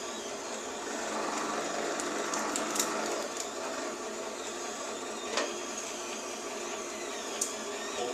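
An electric sugar cane juicer hums steadily as its rollers crush cane, a continuous mechanical whir with a few faint creaks and ticks over eight seconds.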